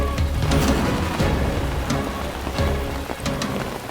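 Heavy rain pours steadily and loudly outdoors, a dense continuous wash with occasional heavier splashes and faint low rumbles underneath, no voices.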